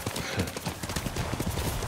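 Horse hooves clip-clopping at a steady gait while riding in Ghost of Tsushima, a close, continuous rhythm of hoofbeats with faint background sound.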